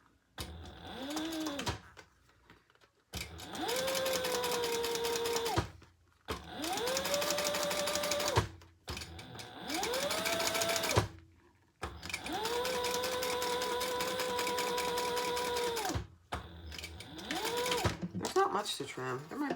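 A sewing machine top stitching the side panel of a black and leopard crossbody bag, running in several steady humming bursts with short pauses between, close and clear.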